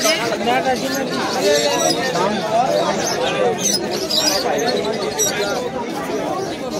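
Pigeons coo and flutter amid the busy chatter of an open-air pigeon market, with many voices talking and bargaining close by over the birds' sounds.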